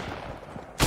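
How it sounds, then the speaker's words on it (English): Gunfire in the video game Fortnite, a short burst arriving suddenly and loudly after a stretch of quieter game ambience. "Oh, I hear gunfire."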